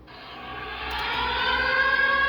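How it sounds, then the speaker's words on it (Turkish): A siren wails steadily for the 10 November Atatürk remembrance, rising in loudness over a couple of seconds, its tone held high and sustained without any talk. "siren sesleri duyuruyor"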